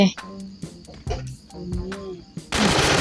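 Gunshots from the mobile battle royale game Free Fire, fired in several quick bursts of sharp cracks between gaps, with a louder crackling burst at the end and speech heard alongside.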